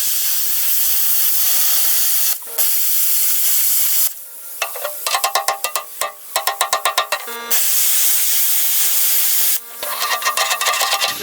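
Gouging the corner off a nut on a damaged loader bucket during repair work, producing a loud, harsh hissing roar in long bursts, broken by brief gaps and sharp crackling pulses.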